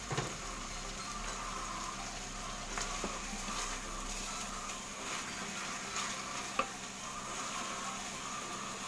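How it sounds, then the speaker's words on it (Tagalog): Chicken pieces brown in a pan with a continuous even sizzle, close and moderate, broken by occasional light scrapes and one sharp clack. "Ayan po, nagbo-brown na yung chicken."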